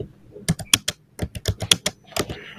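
Code being typed on a computer keyboard in quick irregular bursts of distinct, close keystrokes with short pauses between groups, no voices.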